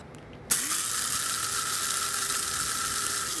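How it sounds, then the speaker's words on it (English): An electric spice grinder starts abruptly and whirs at a steady high pitch, grinding whole toasted spices, close and alone without talk. "when you want to grind it, you can use a spice grinder like this one"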